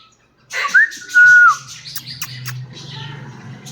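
A tame female parrot, close and loud, whistles a rising note and then a held tone. Softer chirps, squawky calls and a low household rumble follow.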